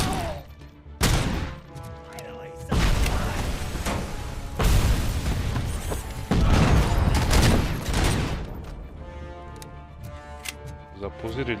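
Grenade blast in RoboCop: Rogue City amid loud combat, with several heavy booming impacts and crashing bursts spread across the stretch, dense and close, with some voice underneath.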